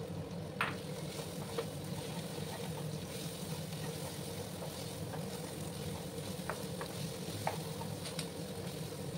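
Three chopped onions sauté with a pinch of salt in a pan over high gas for cholar dal, a steady, low-level sizzle with occasional soft stirring clicks, close and unbroken.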